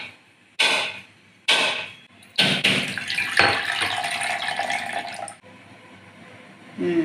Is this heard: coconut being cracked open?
yes